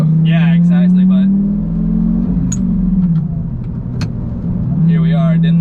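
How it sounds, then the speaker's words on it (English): A Lamborghini Gallardo with a gated manual shifter drives with a steady, loud engine drone that dips briefly around a shift, while people talk over it at the start and end. "never thought I'd actually get to drive a gated shifter Gallardo"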